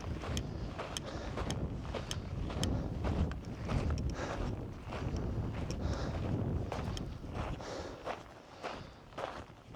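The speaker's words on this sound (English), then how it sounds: "It's windy up here." Strong wind buffets the microphone with low rumbling gusts near the summit lookout of Sand Mountain, Oregon, while crunching footsteps tread steadily underneath.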